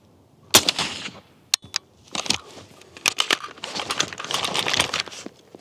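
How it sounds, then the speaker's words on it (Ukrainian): An AR-15 rifle fires Winchester green tip ammunition from about 20 meters away. One sharp, loud crack is followed by scattered clattering impacts and rustling handling noises. "Постріл."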